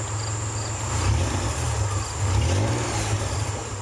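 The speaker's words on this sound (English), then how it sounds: "Go ahead and start the car, see what we get." A Nissan 200SX S12 with a turbocharged VG30ET V6 runs at a steady idle, a loud, close, low droning hum that swells slightly and settles without pause.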